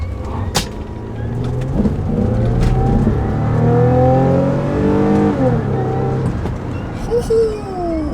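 A Toyota car accelerates hard along a residential road, its engine note climbing through several rising gear pulls before easing off. The engine sounds loud and close, as heard from inside the car, with no talk over it.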